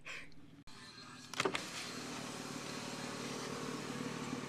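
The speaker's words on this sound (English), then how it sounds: "Universal sign for pull down your window." A car's electric window motor whirs steadily as the glass rolls down, over a low idling engine hum, after a brief click.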